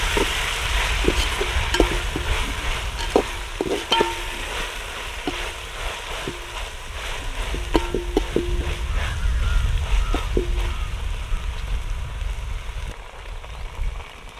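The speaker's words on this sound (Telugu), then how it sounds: "మనమైతే ఇలా కొంచెం అల్లం ఎల్లిగడ్డ పేస్ట్ అయితే వేసుకున్నాం" Onion browned with ginger garlic paste frying in a pan for vegetable paneer pulao, a steady close sizzle broken by scattered clicks and scrapes of stirring, with no talk.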